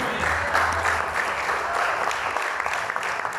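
A church congregation applauds during a sermon, dense, loud clapping from many people filling the room and continuing steadily throughout, with no speech over it.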